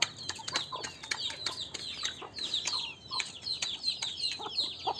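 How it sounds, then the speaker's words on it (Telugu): Chickens clucking and calling busily at feeding time after being given grain, a steady mix of near clucks and squawks with some wing flapping, no talk. "కోళ్ళకి మేతలన్నీ పెట్టాను."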